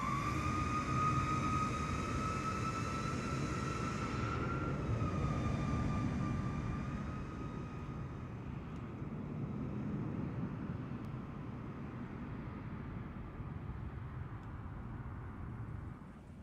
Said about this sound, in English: check out the new and improved wake turbulence, which now actually does something in the sim from the AI aircraft as well